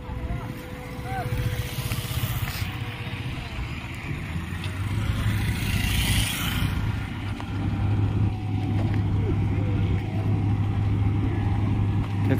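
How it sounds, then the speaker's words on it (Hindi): A large road construction machine runs steadily on a Patna ring road site, a low continuous engine drone with a mechanical hum that persists throughout, while people talk nearby. "देखिए हमारा बड़ा मशीन चालू हो गया है।"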